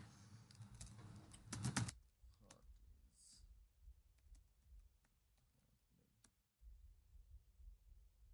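Quick keystrokes on a computer keyboard while typing a web search, a dense burst of clicks near the start followed by sparse, quieter taps and occasional faint talk.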